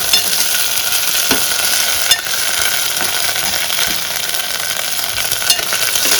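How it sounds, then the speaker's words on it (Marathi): Ginger, garlic, chilli and coriander paste sizzles loudly in a hot tempering, with a dense continuous hiss and a few scraping stirs of a spoon against the pan, no voices. "आलं लसूण मिरची कोथिंबीरची पेस्ट घालायची"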